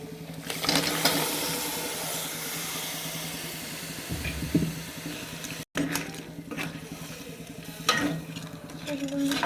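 Boiled crab is stirred into curry in a pan, giving a close, steady sizzling bubble with repeated scraping and knocking of a spoon against the pan.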